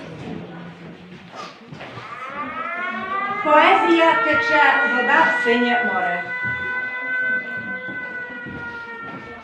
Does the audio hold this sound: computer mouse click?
no